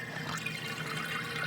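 Water rushes steadily through the overflow standpipe of an indoor aquaponics tank holding goldfish, a continuous close splashing and gurgling flow with no pauses.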